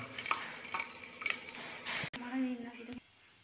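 Garlic fries in oil in a pan for saag, giving a soft, close sizzle with light stirring scrapes, and the sizzle briefly swells near the end.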